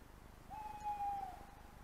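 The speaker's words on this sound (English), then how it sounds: "I'm hoping that's an owl." An owl outdoors at night gives a single drawn-out, steady hoot that is faint and distant against quiet background hiss.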